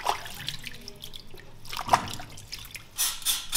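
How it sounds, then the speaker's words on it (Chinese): Pork ribs and liver are rinsed in water in a home kitchen, with trickling, dripping and splashing sounds coming in short bursts, close and moderately quiet. "先把它们洗一下哈。"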